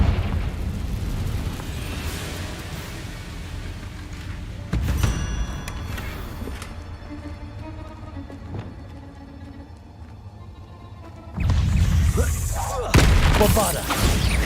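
Confringo fire spells burst in Hogwarts Legacy, a loud low booming blast at the start followed by rumbling debris and echoing tails, then further heavy explosive bursts near the end, with game sounds in between.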